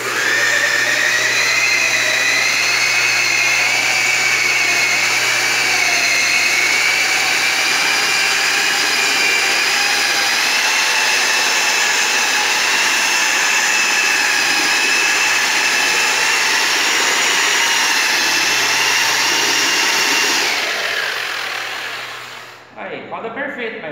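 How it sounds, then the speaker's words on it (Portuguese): A giraffe-style drywall sander runs steadily at a construction site, its motor whining with a constant high hum for about twenty seconds before it spins down and stops. "eu posso tanto trabalhar com a minha lixadeira girafa"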